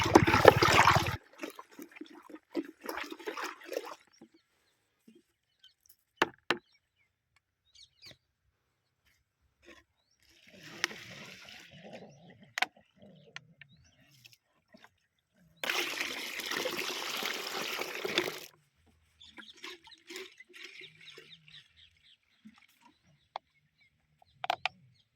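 Water pours and splashes in intermittent bursts as brinjal crop spray liquid is mixed in, with long quiet gaps and scattered knocks between the louder sloshing stretches.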